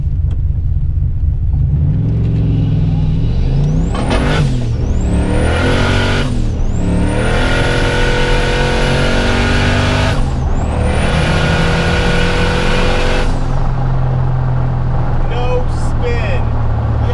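A turbocharged Fox-body Mustang engine revving hard through first gear while driving, loud and close, with repeated rising pulls to the top of the range, each cut off by a sharp drop at the shift, then settling to a rumbling cruise.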